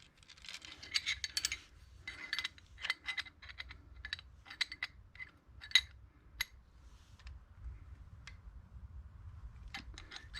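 A ratchet wrench tightens a bolt on a throwout bearing setup for a 472 Cadillac with a T56 six-speed, giving rapid bursts of close metallic clicks that stop and start, with sparse ticks later.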